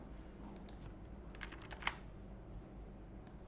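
Someone types C code on a computer keyboard in short, uneven bursts of close key clicks, with one sharper key strike standing out over a low background hum.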